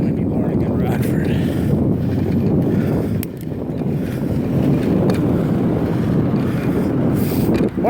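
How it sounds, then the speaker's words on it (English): Wind on a windy morning in Rockford buffets the microphone with a continuous loud rumbling roar, gusting in strength throughout, with faint rattling. "As far as the wind goes, it's just windy. It's a windy morning in Rockford."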